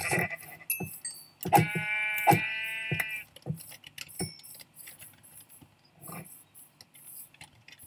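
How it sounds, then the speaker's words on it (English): A few sheep bleats ring out in bursts in the video game Minecraft, with clicks and light game sounds between them, fairly quiet and without talk. "Oh, as I say that, there are sheep."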